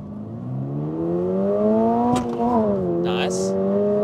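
A 2023 Toyota GR86 with traction control off accelerating hard from a standstill: the engine note climbs steadily and loudly, with a quick gear change midway before pulling up again, and faint voices near the end.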